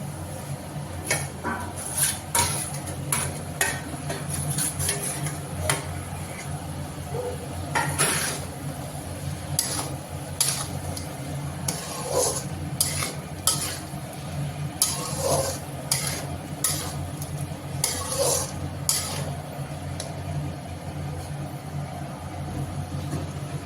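Previously fried tomato and potato go into a hot pan and are stirred, giving a steady low sizzle broken by repeated sharp clinks and scrapes of a utensil against the pan, close and without voices.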